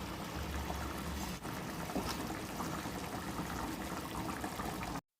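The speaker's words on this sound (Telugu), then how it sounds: "ఒక 10 minutes అయిన తర్వాత కొద్దిగా చింతపండు రసం వేసుకుందాం" Tamarind juice is poured into a simmering fish curry made with raw mango and small onions, giving a quiet, steady liquid rush with a faint bump partway through that stops abruptly.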